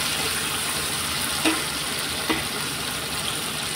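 Pumpkin pieces fry in oil with nigella seeds in a wok, making a steady hiss with two brief scraping clicks from stirring; close and moderate, with no talking.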